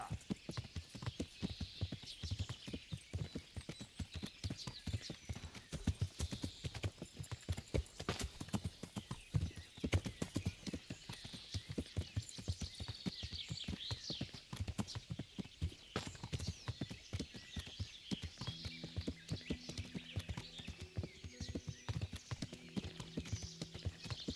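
Steady clip-clop of horse hooves trotting at an even pace in the video game Kingdom Come: Deliverance, fairly quiet and continuous throughout, with no talking.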